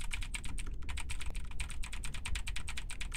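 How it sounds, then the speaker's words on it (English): Rapid, steady keyboard typing in the horror video game The Diving Bell, a dense run of close clicking keystrokes with a low background hum and no voices. "So I have to like keep typing to get it to keep going."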